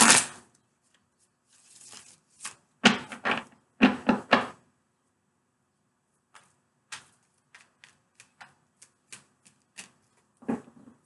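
Quick bursts of tarot card shuffling riffle close by, followed by scattered light taps and flicks of cards being handled in the quiet.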